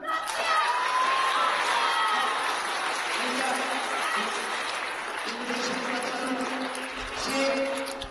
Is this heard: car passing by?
no